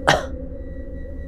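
A single small cough, short and close, followed by quiet room tone.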